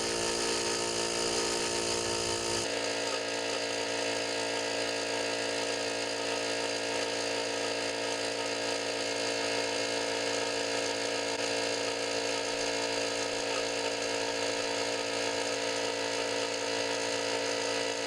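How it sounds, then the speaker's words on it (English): An air compressor charging up for sprinkler winterization runs as a steady mechanical motor drone with a faint rattling hum. Its tone shifts a little about three seconds in, then holds even and moderately loud to the end. "I'm going to go ahead and get the air compressor charging up right now"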